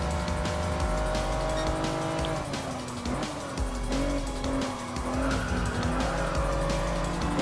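First-generation Honda NSX Type R race car in Gran Turismo Sport, engine droning and shifting pitch through gear changes with tire squeal and skidding through corners, loud and continuous.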